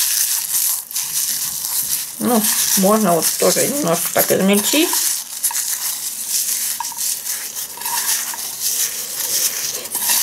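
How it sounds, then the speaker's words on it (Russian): Dried mint leaves and rose petals crushed by hand, a soft close crackling and rustling that runs on and off, first under a voice and then alone. "Вот мяту мну с розой"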